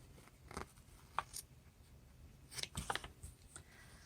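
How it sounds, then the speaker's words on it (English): Scissors snipping out pieces for a handmade puppet, several quiet, close, separate cuts spread unevenly across a soft, otherwise still room. "let's cut out all our pieces"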